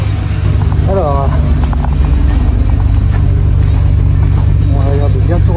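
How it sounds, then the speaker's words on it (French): A Ferrari 400's V12 engine, restarted after 18 years of storage, idles in a steady, loud, even drone with a deep rumble. Voices talk briefly over it. "on va regarder bien tourner sur ces 12 cylindres"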